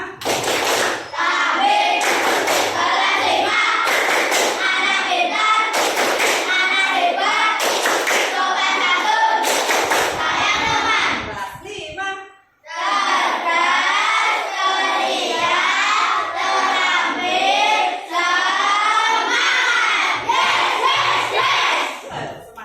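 A class of fifth-grade children in an Indonesian classroom claps and chants together in loud rhythmic bursts, with sharp clap patterns and voices, a short pause near the middle, then more chanted clapping.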